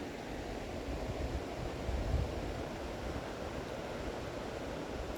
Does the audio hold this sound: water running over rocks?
yes